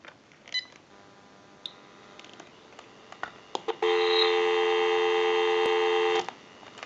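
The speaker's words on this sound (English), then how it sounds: "Go ahead and give you some dial tone" A steady, loud dial tone from a General Electric 27909 cordless telephone hums continuously for a couple of seconds after a few faint clicks, then cuts off abruptly.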